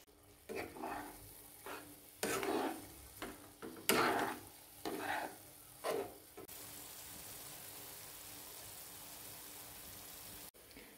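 Mango coconut barfi mixture of grated coconut in sugar syrup cooking in a pan, heard as a soft bubbling hiss broken by several short scraping stirs, then a quieter steady simmer.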